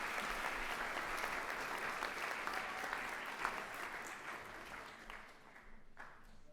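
A school convocation audience applauding, dense sustained clapping filling the hall evenly before gradually thinning and fading toward the end.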